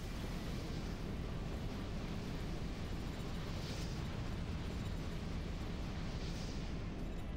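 A missile barrage fired in the Armored Core mech video game forms a dense, continuous roaring rumble of launches and blasts that stays loud and unbroken throughout.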